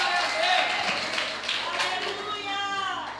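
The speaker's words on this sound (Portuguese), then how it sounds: "Vocês podem dar uma salva de palmas" Applause and clapping from a church congregation before a sermon, steady and fairly loud throughout, with voices mixed in underneath.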